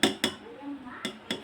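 Homemade ghee being stirred in a pan: a few sharp metallic clinks of a spoon against the pan, spaced irregularly, close and moderately loud over a soft background, with speech nearby.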